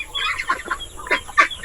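Several chickens cluck in short, irregular bursts close by on a farm in the afternoon at their roosting place, overlapping one another.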